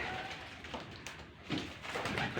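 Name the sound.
pigeon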